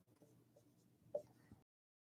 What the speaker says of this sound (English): if you were to write it on paper